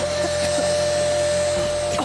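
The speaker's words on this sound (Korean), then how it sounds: "청소기를 켜자마자" A household vacuum cleaner running while a bedding area is cleaned indoors, giving a steady, loud, continuous motor drone with a sustained whine throughout and no pauses.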